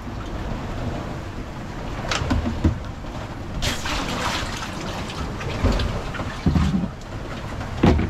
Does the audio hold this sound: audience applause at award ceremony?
no